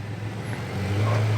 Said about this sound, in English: they couldn't hear you. There was a truck.